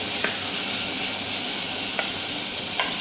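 Frozen peas and corn cooking in a hot pan, a steady close sizzle and hiss with a couple of faint stirring clicks.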